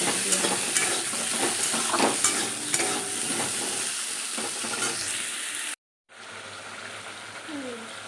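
Food frying in oil at home while mango chutney is being made, a close hissing sizzle with stirring scrapes that stops abruptly, then returns after a short gap.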